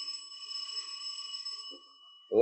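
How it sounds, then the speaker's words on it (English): An apartment doorbell in a radio drama rings with a steady, sustained electric tone for about two seconds, close and clear, then stops as a voice begins. "we rang the bell to his apartment"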